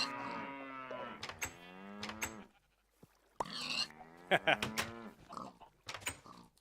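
Cows in a video game let out several loud, drawn-out moos close by, separated by short pauses, with a few other farm-animal noises mixed in.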